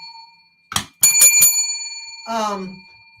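A bicycle bell dings once, then rings in a quick series of bright metallic trills, followed by a short voice.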